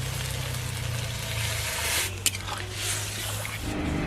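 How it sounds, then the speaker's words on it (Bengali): Water left from boiling peas poured into spiced potatoes for ghugni, a close wet splashing and sizzling hiss that swells and fades, with one brief sharp knock partway through. "এবার আমি মটর যে সিদ্ধ করেছিলাম সেই জলটাই দিয়ে দিচ্ছি।"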